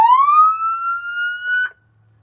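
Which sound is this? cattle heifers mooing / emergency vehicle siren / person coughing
emergency vehicle siren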